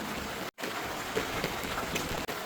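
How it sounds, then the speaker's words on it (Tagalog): Heavy, unbroken rain falls during cyclone flooding while water runs into a nearby canal. It makes a dense, even hiss that is briefly cut off twice. "ganito karami yung tubig na naiulan at dire-diretso pa yung kanyang pag-ulan"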